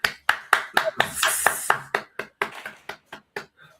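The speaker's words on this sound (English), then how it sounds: "Let's clap for Jesus." Studio audience or morning-show crew clapping in a quick, uneven burst of about a dozen sharp claps that thin out toward the end, fairly close and loud, with no talking over it.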